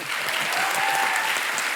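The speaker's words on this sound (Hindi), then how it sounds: "जोरदार तालियां" A studio audience at the Kapil Sharma Show applauds guests, giving sustained, dense, even clapping from a large crowd throughout with no pauses.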